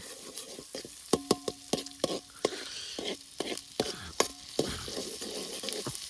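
A spoon stirs chicken masala with onion and tomato in a pot at a Konkan chicken party, with repeated sharp scraping strokes over a steady, close sizzle and no talking.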